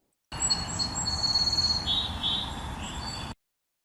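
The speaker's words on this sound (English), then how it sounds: "So you hear beep, beep, beep, and then this is a trill" A recorded bird call: a few high, thin beeps followed by a rapid trill, clear and close, with no other sounds.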